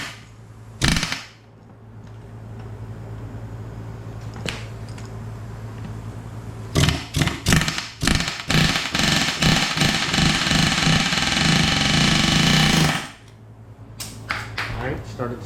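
An air impact wrench hammers on a transmission part from an SRT4, a short burst near one second, then a long rapid rattling run of impacts from about seven to thirteen seconds, loud and close, with a few more bursts at the end.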